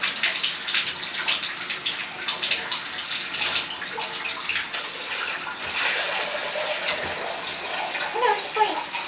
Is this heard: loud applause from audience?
no